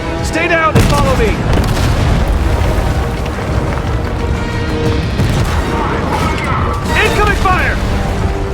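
Video game combat roars with heavy incoming gunfire and booming explosions, a loud continuous barrage with metallic mechanical clanks, while voices call out over the din.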